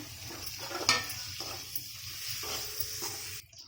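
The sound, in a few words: boiled eggs added to frying masala, sizzling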